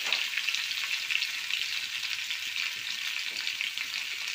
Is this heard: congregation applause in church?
no